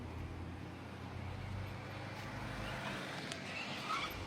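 Car traffic around a full parking lot at the Kausar-Bulak sanatorium, with a steady low road rumble and the hum of passing vehicles held at a moderate distance for the whole stretch.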